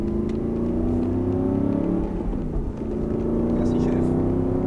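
A car accelerates again during a track driving lesson, its engine whirring and rising in pitch with a brief dip midway, heard from inside the cabin as a steady, loud drone.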